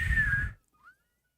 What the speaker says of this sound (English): I can whistle like normal